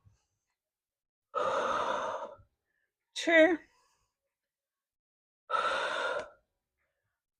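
Heavy breaths during a pregnancy Pilates pike hold: three separate sighing exhalations, each lasting under a second, with a brief voiced sound between the second and third, in a quiet room.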